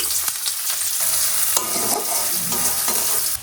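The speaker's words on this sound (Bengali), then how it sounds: "এবার দিয়ে দেবো পেঁয়াজ কুচি" Chopped onions hit hot oil seasoned with five-spice (panch phoron), producing a loud, close sizzle with repeated scraping stirs and clatters throughout, no speech.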